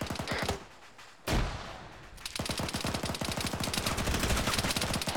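Rapid automatic gunfire in a military shooter game sounds as dense bursts of sharp shots. A burst ends, a loud crack follows after a pause, then a long sustained volley hammers on steadily to the end.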